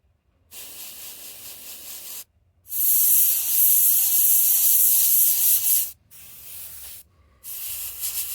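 Airbrush loaded with Kaleido paint and a 0.2 mm needle, hissing in several separate close bursts of spray with short silent gaps between them.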